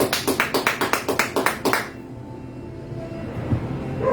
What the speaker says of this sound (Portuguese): Aplauda-se.